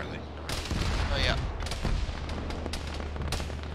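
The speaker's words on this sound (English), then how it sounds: "there's an auto cannon engaging it, to our northeast somewhere" An autocannon firing in an Arma ShackTac mission, sharp repeated gunfire reports in uneven bursts with booming low thuds, moderately distant amid continuous battlefield rumble.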